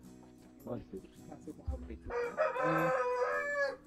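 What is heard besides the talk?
Balão breed chickens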